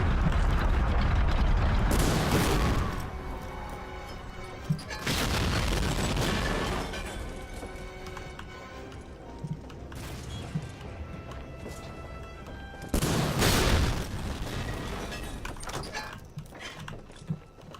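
A blown-up target exploding in a war video game: deep booming blasts roll in at intervals, loud and broad, with rumbling and mechanical noise lingering between them.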